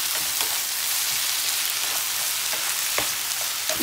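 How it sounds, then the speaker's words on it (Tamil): Onions, ginger garlic paste and tomatoes sauté in a pan with a continuous bright sizzle and occasional sharp stirring clicks, close and even throughout. "அதுக்கப்புறம் ஒரு 3 to 4 டொமேட்டோஸ், தக்காளி வந்து நல்லா வதக்கிடணும்."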